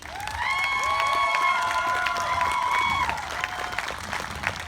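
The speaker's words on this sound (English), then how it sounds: "And I want you to applaud these women of your community." Outdoor crowd applauding and cheering at a Black Lives Matter march in Miamisburg, with steady clapping throughout, whistles and shouts rising over it, and a long, full roar that eases slightly toward the end.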